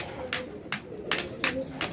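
Loose pigeons cooing at a loft, soft low coos repeating at a steady pace, with sharp brief noises recurring about every half-second, fairly quiet and near.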